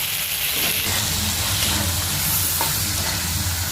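Spices with ground black pepper fry in a pan under dense, loud steady sizzling, with soft scraping as they are stirred, close and continuous without talk.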